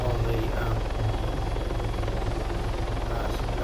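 Helicopter rotor and engine drone from ARMA 3 during an autorotation, a loud steady whirring throb with rhythmic low blade thumps, continuous throughout with no talk.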